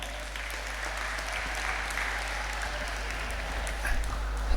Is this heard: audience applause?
yes